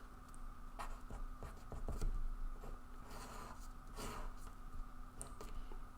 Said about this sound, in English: I'm going to write down here